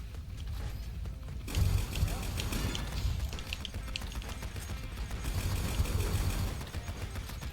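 Pistols fire in rapid, clattering bursts during a Roblox Notoriety heist, mixed with mechanical clicks and ratcheting. The shots keep up steadily at close range, with occasional talk underneath.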